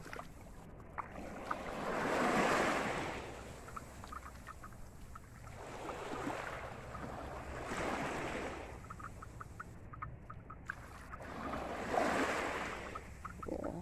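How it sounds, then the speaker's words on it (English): Ocean waves wash in slow, swelling surges about every four to five seconds along a Jamaican shore, with steady water noise and light wind between them and no voices. "That's the sound of the water."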